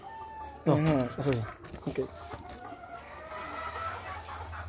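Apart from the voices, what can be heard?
hen clucking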